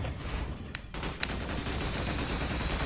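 Automatic gunfire from a mecha in a modded Minecraft game, a dense rumbling stream of shots with a couple of sharper cracks, steady and fairly loud throughout.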